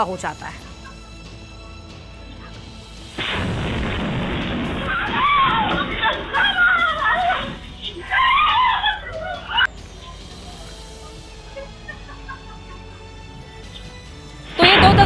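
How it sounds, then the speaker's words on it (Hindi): A homemade bomb goes off on a Bhubaneswar rooftop where crude bombs were being made: a sudden muffled, tinny blast, then shrill screaming and shouting voices for several seconds before fading to quiet. "अचानक ही उस दौरान धमाका होता है और फिर लोग वहां से चीख पुकार करते हुए भागते हुए दिखाई दे रहे हैं"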